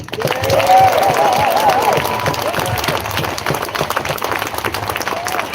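A crowd at an outdoor rally against hunting applauds a speaker, a sustained wash of clapping with a brief high whistle near the start, fading only slightly toward the end.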